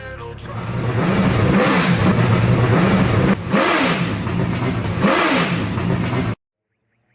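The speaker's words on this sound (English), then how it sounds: "Screens lit up, the grid's alive. Engines roar in this digital" Late model stock cars roar loudly in an asphalt racing video game at Southern National Motor Speedway, with engines revving in repeated rising and falling surges for about six seconds before cutting off abruptly; a voice speaks briefly underneath.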